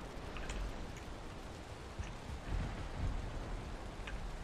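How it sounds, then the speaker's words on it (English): Rain falls steadily in a video game, a soft continuous hiss of drops with faint low rumbles beneath, quiet and unbroken by talk. "It's raining again."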